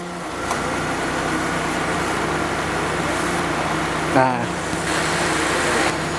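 A car engine idles steadily with the air conditioning switched on, a continuous low hum. Near the four-second mark there is a brief rise and a short wavering as the load changes.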